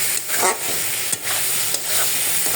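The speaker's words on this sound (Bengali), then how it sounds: "এখানে হচ্ছে আমি চিংড়ি মাছগুলো দিয়ে দিচ্ছি।" Meghna river shrimp fry in a hot pan with a continuous sizzle, broken by several scraping stirs that come in brief, irregular bursts.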